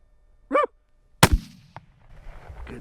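A single sharp, loud shotgun blast while bird hunting in a Kansas field, preceded by a brief bird call and followed by fading rustle and ambient noise.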